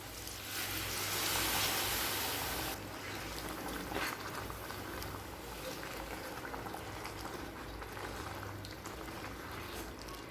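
Chicken gravy simmers in a pot after a cup of water has been added to yogurt-marinated chicken, giving a steady bubbling, hissing boil, louder at first and then settling into a continuous softer simmer with no talking.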